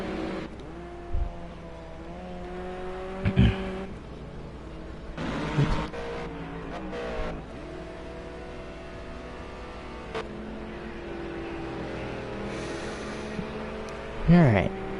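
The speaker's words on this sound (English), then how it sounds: "I'll just be quiet a little bit and just give you some pure engine sounds for now" GT4 race cars on the Daytona Road Course, engines droning steadily at a distance with several louder passes and revving surges; a commentator's voice is faintly present at times.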